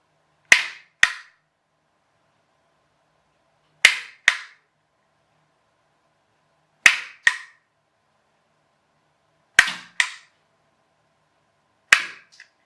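Homemade rubber band shooter firing, five sharp snapping cracks spaced a few seconds apart, each a quick double click followed by silence.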